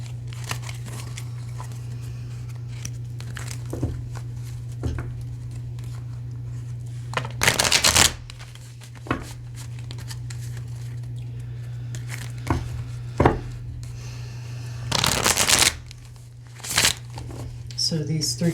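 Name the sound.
cards being shuffled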